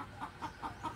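Repeated short clucks from a chicken, four evenly spaced calls in quick succession, fairly faint against a low background hum, no talking.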